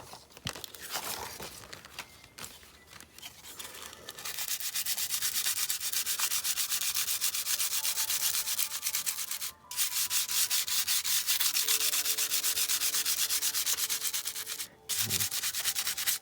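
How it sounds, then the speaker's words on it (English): Sandpaper rubs back and forth over a texture plate in mixed-media work, a close, continuous rasping scrape with brief pauses. "We'll try that with the sandpaper."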